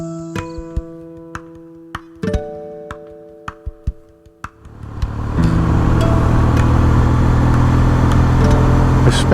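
A 22-year-old Kawasaki W650 motorcycle, heard first as sharp ticking and mechanical clicks over a low steady tone while idling, then swelling into a loud, continuous engine drone as the ride gets under way.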